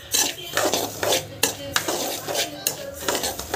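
Semolina (rava) being dry-roasted and stirred in a pan for carrot rava kichdi, with repeated scraping and clinking of a spoon against the metal pan in an uneven rhythm, close and moderately loud, no talking.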